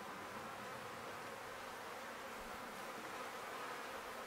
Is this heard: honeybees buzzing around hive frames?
yes